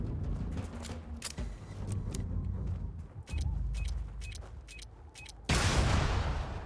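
Grenade explosions and gunfire in the video game Starfield come as a series of sharp shots and booms, ending in a loud blast, at moderate level with no talking.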